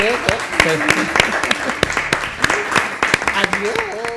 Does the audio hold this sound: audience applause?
yes